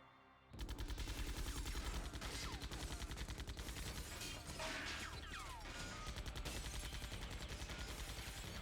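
Rapid automatic gunfire in the video game Xenosaga II: a sustained, rhythmic stream of shots that starts abruptly and stays loud and dense to the end, with mechanical clatter underneath.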